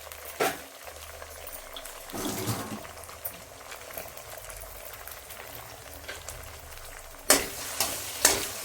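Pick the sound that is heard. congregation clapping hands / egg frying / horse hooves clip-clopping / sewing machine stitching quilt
egg frying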